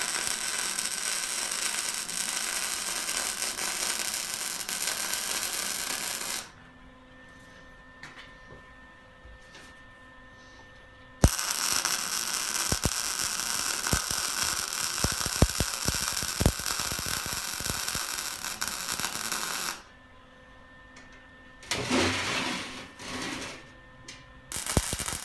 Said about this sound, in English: so now I'm going to weld the bottom.